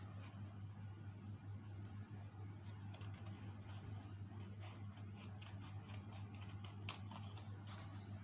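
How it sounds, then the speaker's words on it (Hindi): Scissors cut paper for homemade birthday decorations, producing faint, quick repeated snips over a steady low electrical hum in a quiet room. "आप यहाँ से जो एक्सेस पोर्शन है वो दोनों तरफ से पकड़ कर काट सकते हैं"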